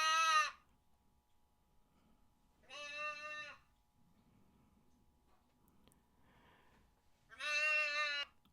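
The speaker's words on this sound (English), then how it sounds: "It's just a goat." A recorded lost goat call: three loud goat bleats, each about half a second long and spaced a few seconds apart, over a quiet background with faint rustling.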